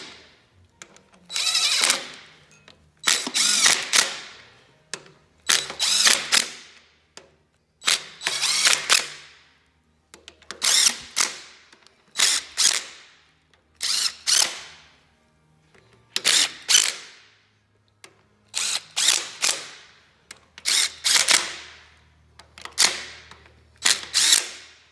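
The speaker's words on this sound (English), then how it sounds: "They're just going to spin these down with the gun." Short bursts from a power impact gun running bolts down on a Kohler engine during reassembly, about a dozen sharp mechanical runs of a second or two each separated by brief pauses, close and loud with no talking.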